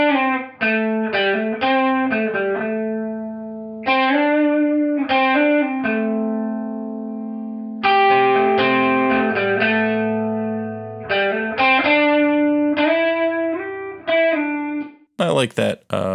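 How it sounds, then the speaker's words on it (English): Distorted electric lead guitar through an amp with no effects plays a melodic line of sustained and bent notes, with a short room reverb impulse response trailing each phrase and no voices. "I like that shorter reverb on a lead guitar like that."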